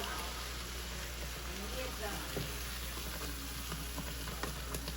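Gravy is poured into hot oil for methi matar malai and sizzles in a low, continuous fizzing crackle with faint stirring scrapes, fairly quiet throughout.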